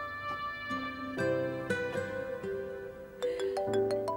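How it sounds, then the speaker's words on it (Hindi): A phone plays a melodic electronic ringtone for an incoming call, a clear tonal tune with stepping notes that grows more insistent near the end, close by and without talking over it. "एक मिनट, फोन आ रहा है।"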